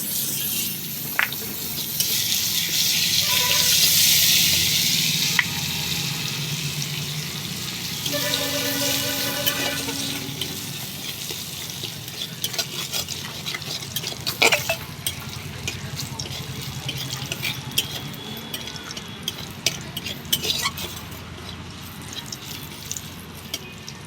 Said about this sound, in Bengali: তেলটা গরম হয়ে গেছে, এবার দিয়ে দেবো শুকনো লঙ্কা আর গোটা জিরে, দিয়ে ফোড়ন করে নেব।